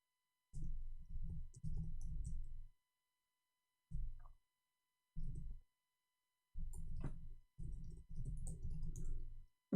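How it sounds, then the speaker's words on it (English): Typing on a computer keyboard, close and quiet: several bursts of rapid key clicks separated by short pauses, with no talk over them. "I was typing for him in Arabic."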